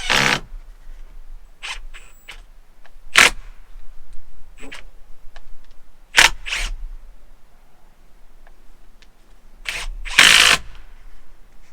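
A power drill drives screws into scrap wood in a home workshop, short sharp whirring bursts repeating irregularly, loud and close, with quiet gaps between each drive.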